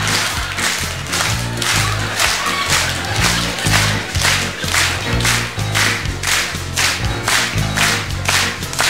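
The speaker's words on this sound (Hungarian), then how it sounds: "Látom, van, aki önfeledten tapsol." A concert audience at a Hungarian retro music show claps in a dense, rhythmic unison beat, loud and steady, with music and crowd noise mixed underneath.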